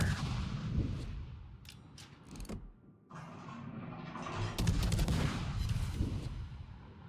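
Naval guns fire shells in a warship video game, heard as several heavy booming salvos with mechanical clatter between them, loud and close.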